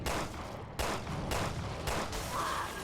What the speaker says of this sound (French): C'est un ennemi qui en plus explose après